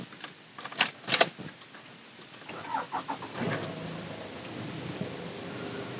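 A car engine starts up, with a few sharp clicks and jangles first, then the motor cranks and settles into a steady, even idle hum that continues to the end.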